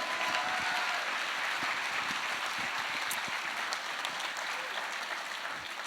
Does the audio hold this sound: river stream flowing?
no